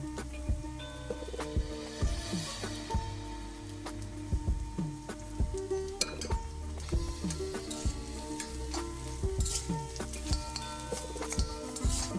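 Rice-flour upma frying and being stirred in a pan, a steady sizzle broken by repeated sharp scraping and tapping strokes of the spoon at an irregular rhythm, close and fairly loud, no talking.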